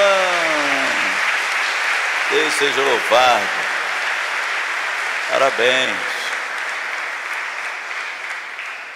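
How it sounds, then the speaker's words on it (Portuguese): A church congregation at a Mass gives the mothers a sustained round of applause, a steady dense wash of clapping that carries through the whole stretch while someone speaks over it. "Vamos dar uma salva de palmas para as nossas mamães"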